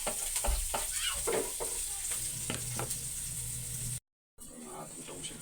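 Garlic fries in hot oil with a continuous close sizzle and occasional stirring clatter. A short dropout near the end breaks it before the frying carries on quietly.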